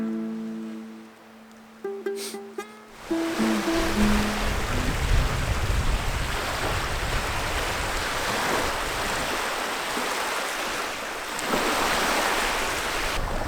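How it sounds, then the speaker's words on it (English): Strong wind gusting with waves lapping and surging at a lakeside camp in Labrador, a steady roaring wash after a few brief tones at the start, with no talk. "It's another windy day that we've got out here."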